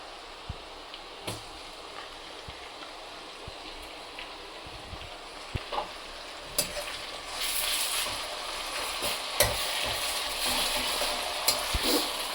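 Garlic frying in a pan with onion and cumin, a steady close sizzle with clicks of stirring that grows louder and brighter in the second half.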